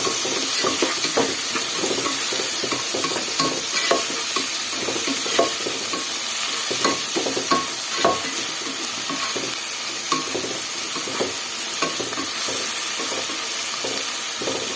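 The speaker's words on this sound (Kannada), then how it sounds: "ಸೇರಿಸ್ಕೊಂಡು ಚೆನ್ನಾಗಿ ಫ್ರೈ ಮಾಡೋಣ" Dal frying in a pan with salt and turmeric, a loud, dense sizzle with a constant rapid patter of stirring and scraping, close and continuous, without talk.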